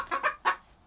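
A homestead chicken gives three quick, close clucks in a short burst, followed by a faint fourth note.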